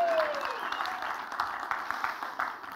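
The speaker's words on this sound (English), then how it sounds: "Give them a round of applause." An audience at a liturgical workshop breaks into a steady round of clapping after a short Thanksgiving frontier performance. The applause is moderately loud and sustained throughout, with a faint voice at the very start.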